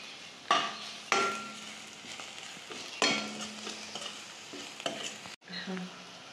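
Onion-garlic masala with red chili stir-fried in a pan: a steady sizzle broken by a few sharp spoon scrapes and clanks against the pan, close and fairly quiet, with no talking.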